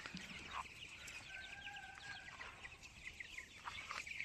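Free-range chickens cluck softly and intermittently in the open, a faint farmyard scene with scattered short calls over a steady background hiss.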